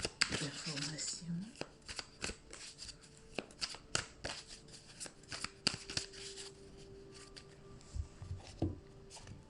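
Tarot cards are shuffled and drawn by hand during a general love reading, giving soft, close riffling and flicking sounds in quick bursts, with a voice speaking quietly over them.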